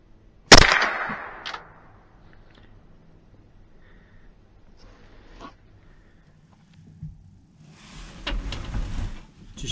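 A single sharp rifle shot with hollow point ammunition fired at a squirrel outdoors, one loud crack followed by a brief fading echo, then quiet rustling and a burst of faint outdoor noise near the end.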